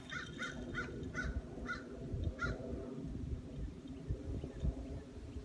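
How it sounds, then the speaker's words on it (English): A crow caws outdoors on an evening walk, a quick series of about six harsh calls at moderate distance over a steady low rumble of background noise. "I guess that's a crow."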